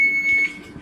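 An oven timer beeps as a single steady high electronic tone held for about half a second, loud and close in a home kitchen during sourdough bread baking, with no talk.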